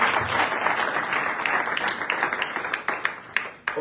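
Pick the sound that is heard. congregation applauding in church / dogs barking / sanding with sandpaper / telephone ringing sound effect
congregation applauding in church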